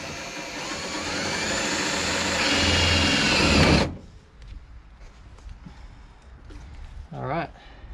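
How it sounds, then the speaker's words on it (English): A power drill whirs loudly and steadily for several seconds drilling through the body metal of a Nissan S14 for side skirts, then stops abruptly, leaving quiet background noise and a brief voice. "luckily I got the stock tires on so I can drill it from here"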